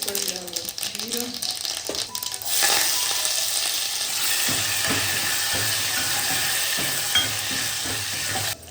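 Dal (varan) with onion and tomato cooking in a pan, a loud continuous sizzle that swells after a quieter start, with stirring scrapes and knocks scattered through.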